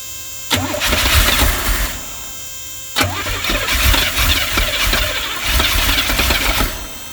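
A 1982 Pontiac Trans Am V8 with Crossfire Injection, parked for 30 years, cranks hard in two long, loud bursts with a short pause between them, a rough churning starter-and-engine roar that never settles into a clean idle.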